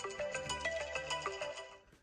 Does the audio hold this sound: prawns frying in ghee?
no